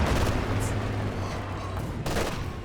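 A heavy mortar fires in Company of Heroes 2 with muffled booming blasts over a constant low battlefield rumble and hum. A couple of brighter bursts stand out near the start and toward the end.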